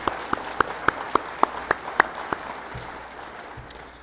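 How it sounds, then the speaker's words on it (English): A small crowd at a business breakfast gives a brief round of light clapping, individual claps distinct and fairly close, fading out within a few seconds. "So maybe just a quick round of applause for Pat."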